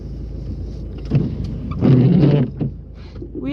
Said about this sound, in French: c'est le bruit de mes super essuie-glaces